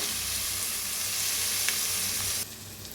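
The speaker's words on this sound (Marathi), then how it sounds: "आता त्याच्यात टाकूया टमाटर हलवून त्याला बी छान असं भाजून घेऊया" Tomatoes go into a pan of browned onion for an egg curry, and the mix fries with a steady, loud sizzle while being stirred, the hiss dropping off abruptly near the end.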